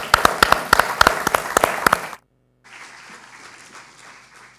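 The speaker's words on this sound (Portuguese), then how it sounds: "Uma salva de palmas, por favor." Audience applause at a live reading event in Portugal: sharp, dense hand clapping that stops abruptly and then gives way to a quieter, softer stretch of clapping.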